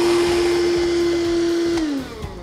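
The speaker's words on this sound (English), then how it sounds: "This vacuum cleaner here" A small cordless wet-and-dry car vacuum cleaner whines steadily at a constant pitch, then switches off and its motor winds down near the end.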